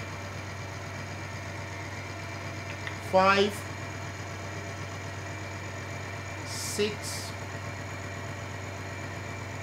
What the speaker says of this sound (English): now you can see Polytron in this engine, it's 3 and still running very smooth without any noise